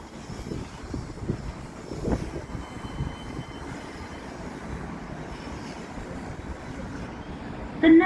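A tram pulls into the Edgbaston Village stop with a steady, moderately loud rolling rumble, a brief louder surge early on, and a short tone at the very end.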